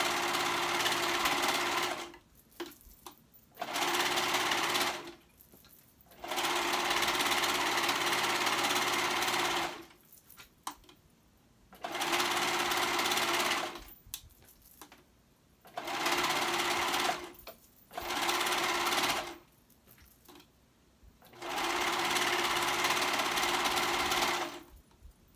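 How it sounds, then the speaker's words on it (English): A sewing machine stitches along the edges of a hoodie in repeated bursts of steady whirring, each run lasting a few seconds and broken by short pauses, close and clear with no talking. "I'm sewing up those edges,"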